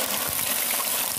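Ginger garlic paste hitting hot oil in a kadai pan, a loud, continuous hissing wash of noise that stays steady and close throughout.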